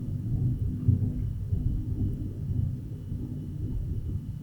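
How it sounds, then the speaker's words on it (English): Low, rolling thunder from a wild storm outside, a continuous deep rumble with a swell near the one-second mark, steady and moderately distant with no talk over it. "Yeah, I don't know if you can hear that thunder,"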